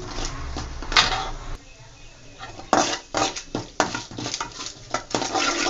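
Urad dal and chana dal tossed with popped mustard seeds in a kadai, heard as close metal clatter and scraping with a few sharp knocks over faint sizzling.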